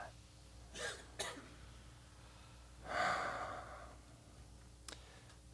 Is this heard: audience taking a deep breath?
yes